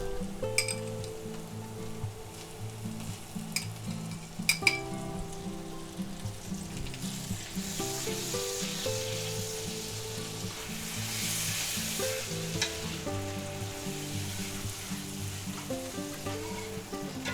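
Minced garlic and a quarter stick of butter sizzle in a hot pan, a steady, close, continuous crackle that holds evenly throughout with no talking.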